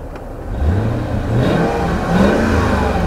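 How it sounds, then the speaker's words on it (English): The V8 petrol engine of a Mercedes CL500 revs steadily, rising and falling in pitch as it pulls, loud and close throughout with no voices. "Sounds lovely though. And that old V8 is quite reliable, isn't it?"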